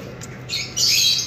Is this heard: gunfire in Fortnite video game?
no